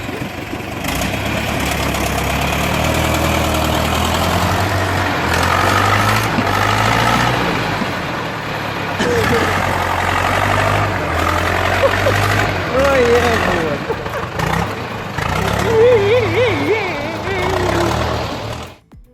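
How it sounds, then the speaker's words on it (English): A Torpedo 75KS tractor engine labors while pushing a log through thick mud, a loud, low, uneven rumbling drone that rises and falls in effort, with voices talking over it. "The Torpedo 75KS is pushing that log like it's in a final showdown."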